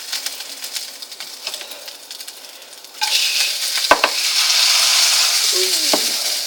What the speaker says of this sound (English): Ooh, juice is spitting everywhere